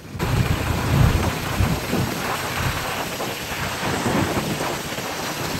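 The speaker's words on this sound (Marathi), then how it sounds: "आता पाऊस यायला चालू व्हायला लागलाय" Rain begins on a highway amid thunder, with a loud, dense rumbling roar from the first second and a steady hiss of falling rain. No voices are heard.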